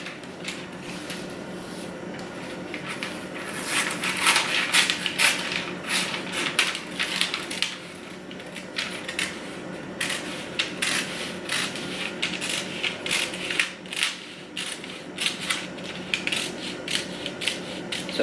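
Scissors cutting a paper bodice pattern along a dart line, a steady series of crisp snipping and rustling sounds, close and continuous with no talk.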